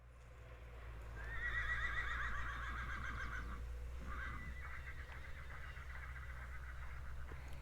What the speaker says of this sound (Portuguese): O bichinho tá relinchando, hein?